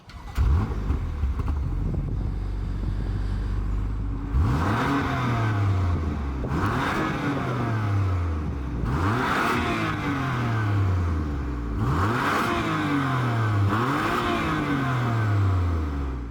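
A BMW M2 CS engine with stock exhaust revs repeatedly, rising and falling in about five throaty blips after an idle, close and loud.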